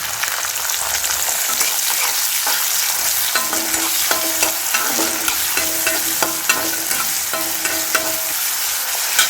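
Onions fry and sizzle in a pan for mutton sukka, a bright continuous hiss broken by repeated scraping and clinking strokes of a spoon stirring against the metal, close and loud with no speech.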